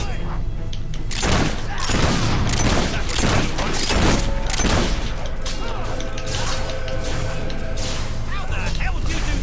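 Gunfire in Fable 3 rattles off as a rapid run of sharp shots and heavy thuds mixed with clanking combat noise, while voices speak over the action.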